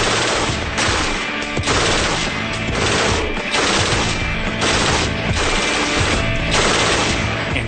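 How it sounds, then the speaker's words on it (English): A Mark 48 machine gun firing in long sustained bursts, loud and dense, with a rapid hammering rhythm that pulses through the whole stretch without pause. "the Mark 48 is as close to a dream machine gun as they're gonna get."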